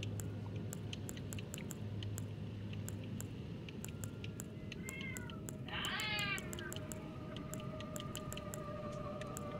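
Distant, faint meows from a tomcat in the Elden Ring game rise over a steady low ambient rumble, along with scattered soft ticks.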